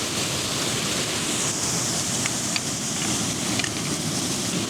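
A waterfall in Serra do Gerês, Portugal, rushes as a constant broadband hiss of falling water, steady and moderately loud throughout with no voices.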